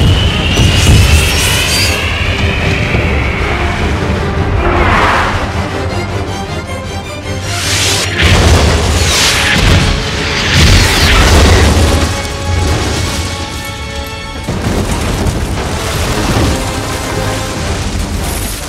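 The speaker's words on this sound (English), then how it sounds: "Recommend using your Mavericks to take out the bridge." Maverick missiles strike a bridge in the 1994 action film True Lies: a long run of loud, heavy explosions and rolling booms with rumbling, clattering debris, all in movie sound-effect style and with no speech.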